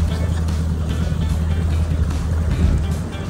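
A full-size 300-horsepower bass boat runs at speed on Lake Kasumigaura, a loud, close, steady engine drone with rushing water and wind, and a voice speaking over it.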